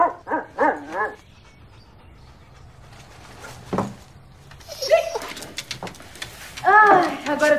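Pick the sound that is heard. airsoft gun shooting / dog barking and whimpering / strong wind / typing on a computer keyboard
dog barking and whimpering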